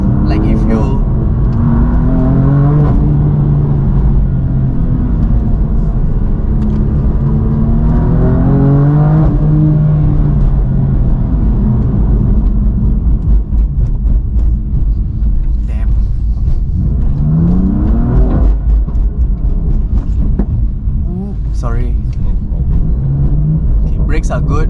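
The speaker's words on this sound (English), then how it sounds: "the thing about the F55 is it's not the best sounding engine" A BMW M4 DTM Champion Edition drives with its engine rising and falling through repeated revs, a steady loud rumble running throughout beneath ongoing conversation inside the car.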